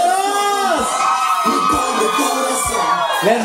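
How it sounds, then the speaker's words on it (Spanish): A lively party crowd at a quinceañera shouts and cheers together, with high-pitched voices of single women whooping and yelling in rising and falling bursts. "Y el grito de las solteras."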